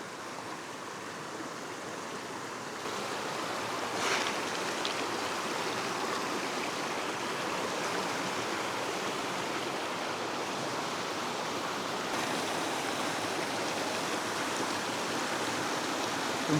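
Stream and waterfall on Knights Track in New Zealand's Ruahine Ranges rush with a steady, broad roar, close and continuous, with no voices over it.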